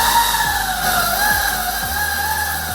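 The motor of a budget 60-volt electric scooter gives a loud, steady whine on its first throttle, the pitch gliding up and down over a low hum, with no talking.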